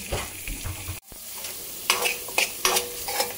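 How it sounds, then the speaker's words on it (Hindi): Garlic and onion sizzle in a hot pan for homemade red pasta sauce while a spoon scrapes and stirs, a steady frying hiss broken by a brief drop near the start and several clear stirring scrapes, close and without speech. "देन गार्लिक को अच्छे से स्टर करेंगे जब ये थोड़ा गर्म हो जाए उसके बाद इसमें डालेंगे एक कप प्याज उसे भी अच्छे तरह से हम मिक्स करेंगे"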